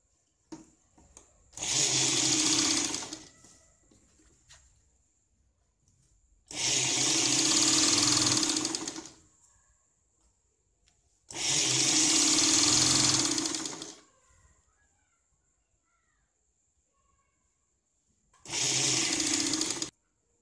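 A sewing machine stitches a blouse lining in four separate bursts of a couple of seconds each, a loud close whirring with quiet pauses between runs.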